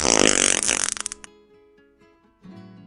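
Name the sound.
cartoon fart sound effect, elephant farting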